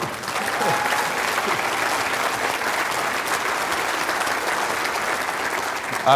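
An audience at a Topgrading speech by Brad Smart breaks into a sustained round of applause, a dense, even wash of clapping from a large crowd lasting several seconds.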